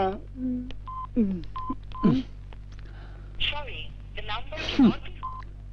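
Telephone keypad tones sound as a series of short, evenly pitched beeps while a number is being dialed, interleaved with a person talking nearby.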